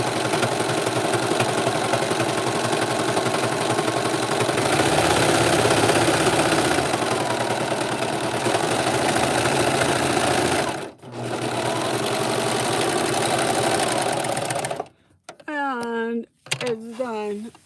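Serger sewing machine stitching a seam on a fabric bag, a loud, fast, steady whir close by that runs for most of the time, then stops briefly as a voice speaks at the end.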